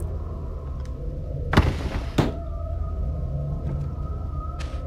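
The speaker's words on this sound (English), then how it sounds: "I just like closing doors behind me." A door in the horror game SIREN shuts with two sharp, loud bangs close together, standing out over a steady low ambient drone and eerie tonal hum.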